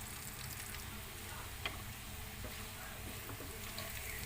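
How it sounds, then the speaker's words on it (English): Potatoes browning in a pan with black pepper and mixed herbs, a steady dense sizzle of frying that holds evenly throughout, with a few faint ticks and stirring clicks. "So now let's just cook this one and brown our potato."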